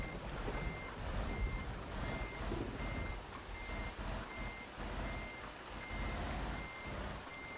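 A truck's reversing alarm in Euro Truck Simulator 2 beeps in a steady, evenly spaced series, faint beneath heavy rain and a constant engine rumble.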